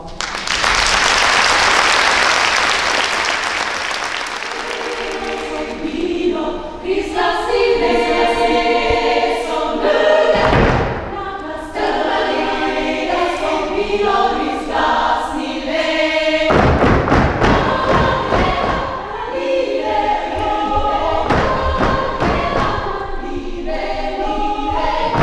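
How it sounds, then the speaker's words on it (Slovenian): At a music school orchestra and choir concert in Brežice, loud audience applause sounds for several seconds before fading into an orchestra playing, with sharp thuds and bursts of clapping recurring partway through the music. "nagradite jih z bučnim aplavzom"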